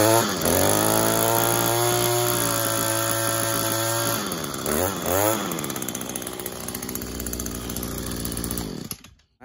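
A lawn mower engine that has sat unused runs loud and steady just after starting, with its harmonic drone shifting in pitch midway and continuing until it cuts off near the end.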